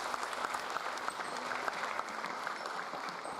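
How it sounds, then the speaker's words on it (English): An audience at a Tata Motors listing ceremony applauds to welcome dignitaries, a steady, moderately distant wash of clapping that carries on throughout without any voices on top. "let's welcome our dignitaries with a very warm round of applause."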